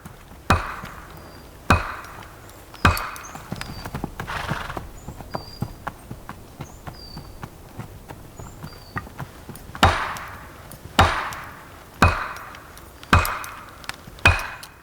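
An axe chops into wood while a tree is felled in a snowy winter forest. Sharp, echoing strikes come at uneven intervals, some spaced out and others in quicker runs, with quieter knocks and crackles between them.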